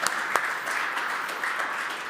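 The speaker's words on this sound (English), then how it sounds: "Let's give a big round of applause for" Audience applause rises for a presenting team at the Waste Challenge event, a steady wash of many hands clapping close to the room microphone with a couple of sharper claps at the start.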